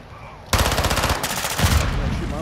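Sustained automatic machine-gun fire in the shooter game Call of Duty: Modern Warfare II, a loud rapid rattle of shots that keeps going for about two seconds with a brief shift in tone partway through.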